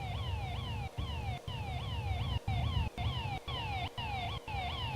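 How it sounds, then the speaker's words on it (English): Repeating car alarm in the Second Life video game, a steady cycle of rising and falling electronic wails pulsing without pause, moderately loud and alone with no talk. "And they got an alarm going on."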